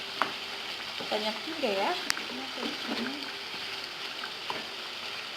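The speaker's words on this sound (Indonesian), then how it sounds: "Seperti ini, ikan sudah masuk, kita aduk-aduk." Shredded tongkol tuna sizzles and fries in a pan while being stirred, with a steady hiss and scraping under a voice speaking briefly.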